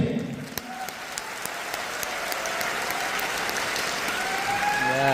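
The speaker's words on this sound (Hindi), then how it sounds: "और एक बार ताली अपने लिए बजा लीजिए।" Applause from an audience after a talk, a steady even wash of many hands clapping that swells slightly toward the end and carries on without speech.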